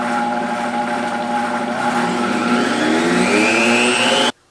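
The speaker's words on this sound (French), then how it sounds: "Je vais brasser." Hot water, Jello powder and cream being stirred, heard as a loud, steady motorized whir whose pitch slowly rises before cutting off abruptly near the end.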